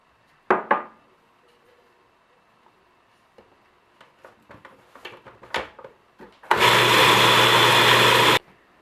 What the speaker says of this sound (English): we're going to add in all the sugar and let this mix again for about a minute